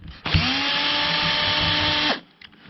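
A DeWalt DCF601 cordless drill driver whirs up sharply, runs at a steady high pitch for about two seconds, then winds down and stops, loud and close.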